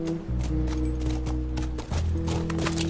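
Horse hooves clip-clopping at a gallop in The Last of Us video game, steady rhythmic thuds set against a sustained musical score, with a brief dip partway through.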